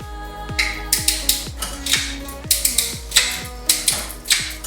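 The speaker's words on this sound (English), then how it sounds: "it seems to go through all of its gears in the back" Repeated mechanical clicks and whirring as a bicycle's rear derailleur shifts through its gears, about a dozen sharp shifts over a steady spinning hum.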